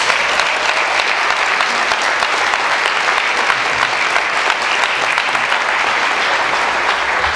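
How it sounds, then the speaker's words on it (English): An audience at a dinner gives sustained applause for the speaker John Inazu, a dense, even roar of many hands clapping close by that holds steady throughout. "please give John a round of applause"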